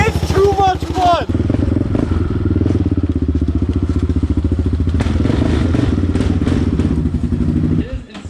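A Yamaha Raptor 600R ATV engine roars loud and close in a dense, steady rumble for several seconds before cutting off near the end, with a brief voice-like sound at the start.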